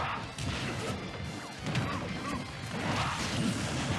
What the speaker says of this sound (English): Up smash taking out Galaxy